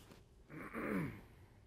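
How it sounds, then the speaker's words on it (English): A single short, soft throat clearing, fairly close and quiet, with no talking around it. "Gotta clear my throat to draw my bow."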